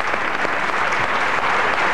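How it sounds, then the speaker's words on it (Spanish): Studio audience at a Spanish television talk show breaks into applause, a continuous, even patter of many hands clapping, moderately loud and without speech. "un aplauso para esta madre singular"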